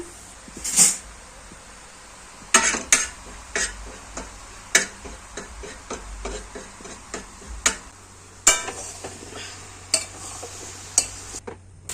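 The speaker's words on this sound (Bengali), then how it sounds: "হালকা করে লঙ্কার গুঁড়া একটু ভাজে নিলাম।" Dried chili powder being fried in a pan, a spatula tapping and scraping the metal in irregular sharp ticks over a faint sizzle, close and moderately loud, with no voices.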